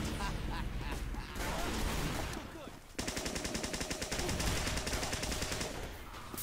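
Rapid automatic gunfire in Team Fortress, with a dense, loud volley starting about halfway and rattling on steadily to the end, following earlier scattered shots.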